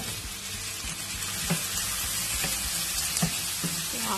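Chopped ridge gourd drops into a hot pan with meat and sizzles steadily, a dense frying hiss broken by a few soft clinks of a spoon stirring, with no voices.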